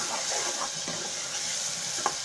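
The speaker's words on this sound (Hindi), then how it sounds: "अब मेरे टमाटर सही भून गए हैं।" Tomatoes fry in a pan for aloo shimla mirch curry, giving a steady, close sizzle throughout with soft stirring scrapes and one brief clink near the end.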